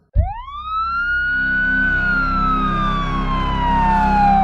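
A wailing emergency siren from an ambulance or police car, one long rising and slowly falling tone that stays loud and close throughout, with no voices.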